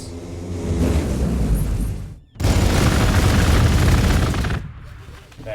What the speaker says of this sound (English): That hail of gunfire that really didn't do a whole lot.